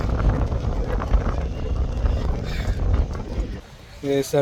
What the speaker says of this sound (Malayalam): താഴോട്ട് നല്ല കാറ്റുണ്ട്